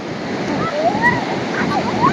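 Constant wash of sea surf on Revdanda beach near Alibag fills the background, broad and steady, while faint voices and bird-like squeaks drift over it.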